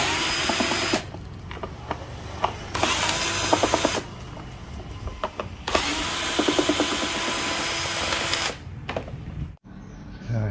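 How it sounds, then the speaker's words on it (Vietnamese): Screws being removed from a faulty electric kettle with a power screwdriver, several bursts of loud whirring separated by short pauses, close up, with faint ratcheting clicks and no talking. "bây giờ mình sẽ mở ốc ra để mình sửa nha các bạn."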